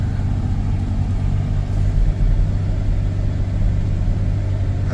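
A 2017 Chevrolet Suburban with a 5.3L engine and a faulty injector, a loud, close, steady rumble with uneven pulsing, heard alone.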